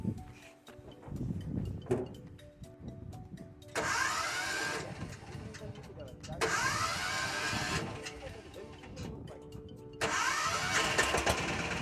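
A car engine cranks and catches, then runs with its revving rising and falling in several surges. People talk faintly in the background.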